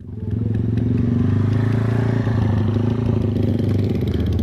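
A motorcycle engine runs loud and close, idling roughly with a steady low chugging and slight revving throughout, on a rural road through rice fields.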